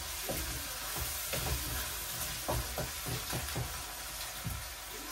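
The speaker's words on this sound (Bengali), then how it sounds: "এখন এটা একটু ভাজা হোক।" Onion paste with ginger-garlic paste fries in a pan with a soft, continuous sizzle, punctuated by light scraping stirs at an irregular rhythm, fairly quiet and with no voices.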